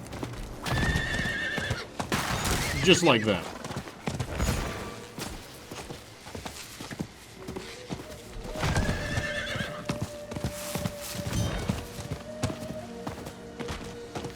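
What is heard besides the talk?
horse galloping and neighing in video game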